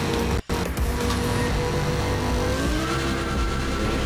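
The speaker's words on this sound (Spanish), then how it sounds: "Se buguea el sonido del coche." Car engine in the racing video game Trackmania 2 Canyon, a continuous loud droning engine tone with a brief dropout near the start, sounding glitchy and held, no talking.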